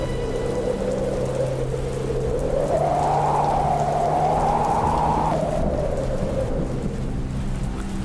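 Heavy rain pours in a steady loud roar with rolling thunder rumbling through the middle, a stormy gust of wind-driven downpour with no voices.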